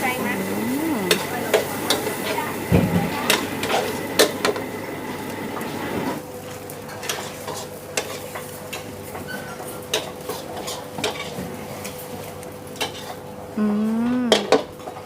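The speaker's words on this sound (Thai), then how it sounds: "คั่วกุ้งให้สุกนะคะ" Shrimp stir-fried in a pan at a Thai made-to-order food stall, with metal spatula scrapes and clanks against the pan and a low sizzle running throughout, over background chatter and kitchen noise.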